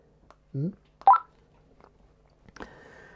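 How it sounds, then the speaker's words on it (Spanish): Short electronic call tones from a Retevis RT649P floating walkie-talkie, a few brief chirping beeps spread over three seconds, close and fairly quiet, ending with a longer steady tone. "Ahora le estoy llamando desde el otro walkie."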